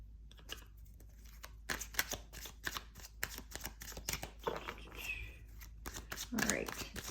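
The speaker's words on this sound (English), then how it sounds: "Let's go ahead and pull some more cards." Tarot cards being shuffled by hand, a run of crisp riffling, slapping card sounds at close range, with brief bursts of talk mixed in.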